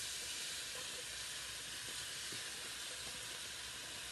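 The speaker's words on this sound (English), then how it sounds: "I'm going to add these tomatoes. That's going to cause some steam, sorry." Steam hissing from a pan of cooked-down mushrooms as tomatoes go in for a pasta sauce, a steady close broadband hiss that holds for the whole stretch without pause.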